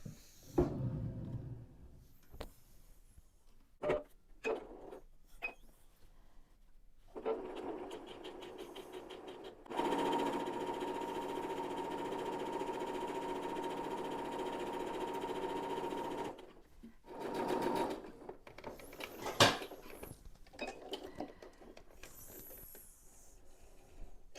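A sewing machine stitches two strips of Liberty fabric together face to face with a quarter-inch seam for a jelly roll quilt. Short starts give way to one steady six-second run, then a few more brief bursts, with no talking.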